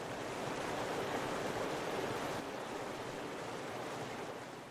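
Continuous rushing river water, a full, even hiss and roar of flowing current that holds steady throughout and tapers a little at the close, with no one speaking.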